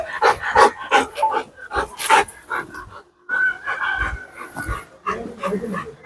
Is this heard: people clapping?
no